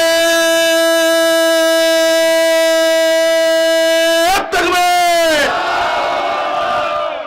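A crowd gathered for a Bengali Islamic sermon in Rangpur roars a takbir response together, a loud, sustained unison shout that holds steady before breaking off and swelling again.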